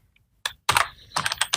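Quick computer keyboard typing while entering a product title into a WooCommerce WordPress store, a short burst of close, crisp keystrokes after a brief pause.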